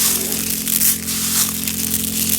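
Dried corn kernels rustle and crunch in a continuous dense crackle, close and fairly loud, during maize drying and threshing after harvest, with a steady low hum underneath.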